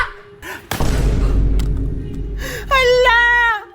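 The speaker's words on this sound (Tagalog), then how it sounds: "Pumutok yung lobo ko!" A toy balloon bursts with a sharp, loud pop and thud, followed by a sustained low rumble and a child's excited, wailing cry rising at the end.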